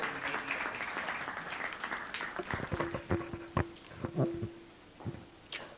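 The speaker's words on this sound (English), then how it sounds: "Let's have a huge round of applause, everyone, for all our panelists." An audience at a panel discussion on the legal profession applauds the panelists: a dense burst of clapping that thins after a couple of seconds into scattered individual claps, with a faint steady tone underneath.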